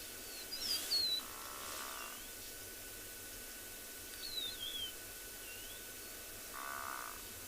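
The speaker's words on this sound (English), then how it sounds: "I can hear lots of birds chirping." A few faint, scattered bird chirps and short whistles sound from a distance at sunrise on a South African safari, over a quiet, hissy outdoor background.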